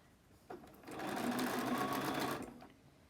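A sewing machine stitches over the casing of a fabric scrub cap. After a click it runs in one smooth, steady burst of about a second and a half, close but fairly soft, then stops.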